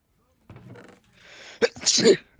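A single person sneezes loudly and close by, a short breathy build-up followed by a sharp burst, with a brief voice sound nearby during an online game session.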